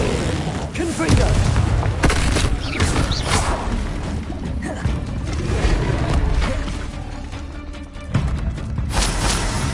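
Repeated booming blasts from the Confringo fire spell in Hogwarts Legacy keep rumbling and crashing with little break, while a person shouts over the explosions.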